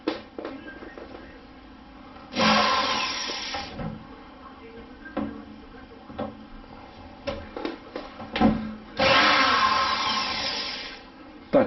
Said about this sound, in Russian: Винты очень сложно открутить отверткой, поэтому берем шуруповерт